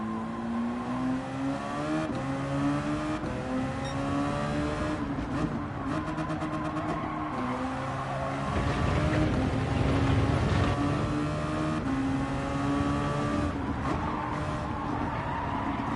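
Race car engine in Gran Turismo 7, a steady loud drone whose pitch climbs and drops through repeated gear changes, with a fuller roar partway through, close and continuous without talk.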